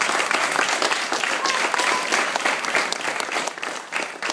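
A crowd at a tribute gathering applauds steadily, many hands clapping in a dense, continuous wash that carries on without a break.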